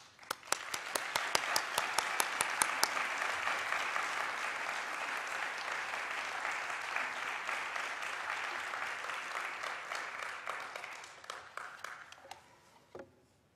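An academic audience bursts into sustained applause welcoming a presidential speaker, dense clapping that swells quickly, holds for about ten seconds, then thins and fades out.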